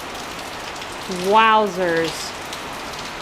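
Heavy rain pours down steadily as a continuous hiss, while a voice briefly speaks over it.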